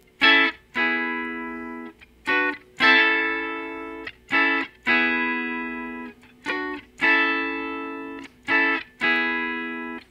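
Guitar in an unusual tuning playing a riff with hammer-ons that imitates a Fender Rhodes keyboard part, with clean, chorus-tinged notes in short repeated phrases of bright chords and quick grace notes, alone and fairly loud.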